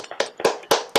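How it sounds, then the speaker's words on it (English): A few people clap hands unevenly in a short ripple of applause, about five or six separate close claps over roughly one second, with no voices. "give you a well-earned round of applause"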